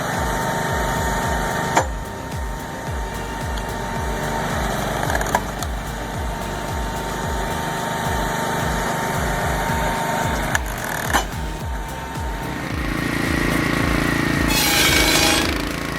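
Homemade firewood saw powered by a Wheel Horse engine cutting logs, a steady running engine with repeated rhythmic chopping and splintering wood, a louder roar building near the end.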